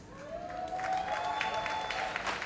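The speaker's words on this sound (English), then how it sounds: "A big round of applause both for our guest speaker, Minister Morris Dixon, and our creative talent, the artist, Mr. Patrick Hall" Audience at an arts awards ceremony applauding the guest speaker and the artist, moderately loud clapping from a crowd with a few brighter claps standing out, overlaid by a faint rising tone.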